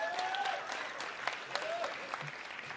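An audience at a live music awards nominees announcement at Carnival City applauds the nominees, a sustained crowd clapping heard at a distance with a few cheers mixed in.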